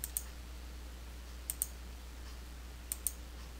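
Computer mouse clicks in a QuickBooks Desktop Pro 2021 setup, crisp and close in three evenly spaced double-click pairs over a low steady hum, with no talking.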